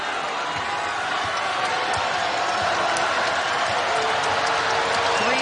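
Basketball arena crowd of about 6,000 at a Gonzaga women's game against Utah, reacting to a foul call with a sustained roar of noise, steady and loud, with faint sneaker squeaks and thuds underneath.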